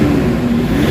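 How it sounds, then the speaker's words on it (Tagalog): Toyota Hilux engine revving under throttle after a repair for low power, throttle delay and turbo faults, a brief loud sustained drone heard close up. "So pakinggan natin yung galit kung saan natin maririnig yung huling hirit ng response ng engine."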